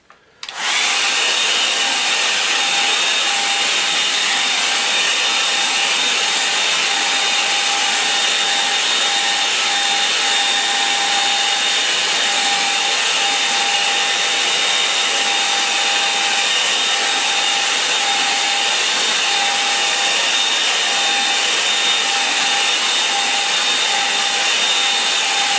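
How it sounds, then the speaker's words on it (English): A hair dryer blows on a wet-in-wet watercolour sky painting, starting with a click and then roaring as a loud, unbroken whir close by for the rest of the clip. "I'm going to dry this now, so take your headphones off or mute."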